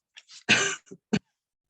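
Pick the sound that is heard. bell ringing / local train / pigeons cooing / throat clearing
throat clearing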